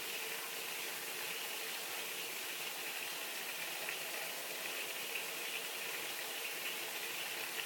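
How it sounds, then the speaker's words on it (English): Tap water flows steadily into a container, a continuous close hiss with an even, unbroken pour and no talking. "I'm going to take this and fill it with water."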